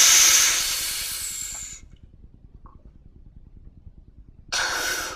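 A singer pushes out a hard, forceful breath, emptying the lungs in one long hiss that fades away, then after a quiet gap a second sharp rush of air starts near the end.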